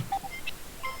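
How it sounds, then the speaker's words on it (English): A phone beeping in the room, with a series of short, thin electronic tones at different pitches, faint and spread over a second against a quiet background. "what is that? Someone's phone?"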